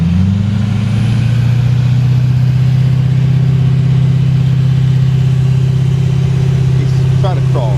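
A Chevy Silverado pickup stuck in beach sand revs its engine in a loud, sustained drone that holds steady throughout, with voices calling out faintly over the roar.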